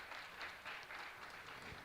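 Soft audience applause at a panel on gender equity in sport, greeting a social psychologist; brief, faint and distant clapping with no voices over it.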